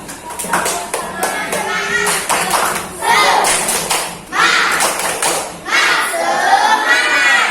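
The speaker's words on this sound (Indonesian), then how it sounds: "tepuk semangat dulu" A class of people claps a patterned spirit clap, loud and close, with voices shouting along between bursts.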